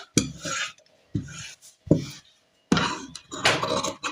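Scissors cut through blouse fabric in four separate rasping bursts with short pauses between them, close and clear, with no talking.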